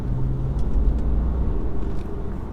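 The diesel engine of a 2014 BMW 530d with 132,000 miles gives a steady low rumble as it accelerates, with road noise heard from inside the car.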